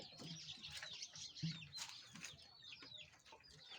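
A chicken clucking and calling in short, irregular bursts, fairly faint and close, with no speech over it.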